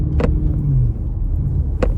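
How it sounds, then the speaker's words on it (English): A 2007 Infiniti FX45 rolls along with a low, steady cabin rumble, broken by two brief bumps or clicks. "we are driving the Infiniti FX45"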